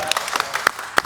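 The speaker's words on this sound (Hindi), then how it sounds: "तो ताली मार दीजिए।" Scattered handclaps from a small audience, a handful of sharp, uneven claps spread over about a second, close and brief.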